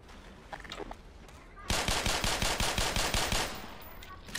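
Rapid automatic gunfire in the video game Black Mesa, a burst of about a dozen punchy shots in quick rhythm lasting under two seconds, with faint voice and game sounds before and after.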